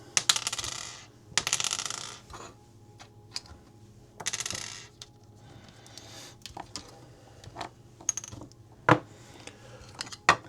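Small screws are pulled out of a roof node enclosure and dropped, giving close, sharp metallic clinks and taps scattered among brief scraping and handling noises.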